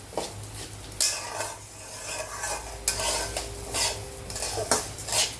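Mung dal frying and being stirred in a home kitchen pan, with repeated scraping strokes of a utensil against the metal over a soft sizzle, the sharp clinks arriving at irregular intervals.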